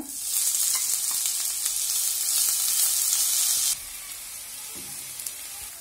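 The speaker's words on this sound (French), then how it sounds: "dans une poêle avec un filet d'huile d'olive que je fais à peine chauffer, je fais revenir mon oignon" Onion frying in olive oil in a pan, a bright hiss that runs steadily for several seconds, then drops suddenly to a much quieter sizzle with a light scrape or two.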